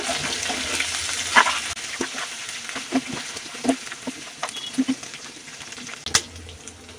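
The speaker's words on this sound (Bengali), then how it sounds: "তেলটা গরম হয়ে আসলে এখানে আমি যে মাংসটাকে সিদ্ধ করে ভালো করে কষিয়ে শুকিয়ে রাখিছি, এটা এখন তেলের মধ্যে দিয়ে দিচ্ছি" Boiled, dried beef pieces frying in hot oil for a beef bhuna, giving a steady soft sizzle with scattered pops and stirring knocks at close range, no voices.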